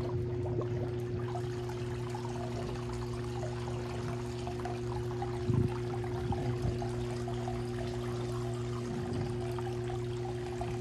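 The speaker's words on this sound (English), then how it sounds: "So I'm gonna run the bubbles or the jet, I mean." A hot tub's jets run with bubbling water, a steady churning rush and low motor hum throughout, with occasional louder gurgles and splashes.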